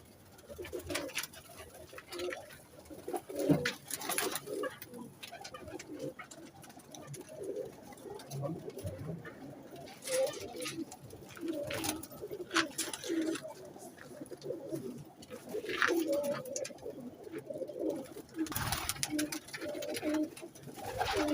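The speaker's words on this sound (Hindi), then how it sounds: "ये भी ये माशाल्लाह टैडी मेल कांटों वाले बहुत अच्छे कबूतर है ये।" Teddy pigeons in a breeder's loft coo softly and repeatedly, layered low murmuring calls from several birds with occasional wing flutters and sharp knocks, fairly faint and continuous.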